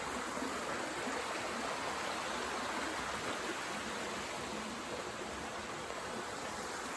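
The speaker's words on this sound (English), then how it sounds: "the water's been coming through pretty pretty quick" A fast-flowing, clear stream in the rainy season rushes with a dense, continuous roar, close and steady throughout, with no voices.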